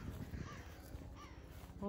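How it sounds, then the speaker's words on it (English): A crow caws twice at a distance during a morning walk on a farm among long grasses, with a person talking close by throughout. "Oh, there's the crow."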